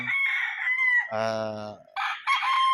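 A rooster crows loudly and close among chickens loaded for transport on a poultry farm, with a long drawn-out crow followed by shorter squawking calls.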